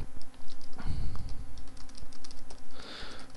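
Rapid, irregular clatter of fingers typing code on a computer keyboard, close and fairly loud, with a few heavier key strikes and no voices.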